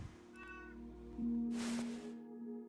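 A cat meows once in a long, fairly loud cry inside the puzzle video game Her Trees: Puzzle Dream, over soft, sustained background music with no talk.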